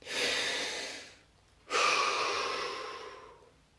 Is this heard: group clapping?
no